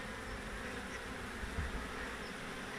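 A swarm of bees buzzes in a dense, continuous drone, faint and steady with no voices over it.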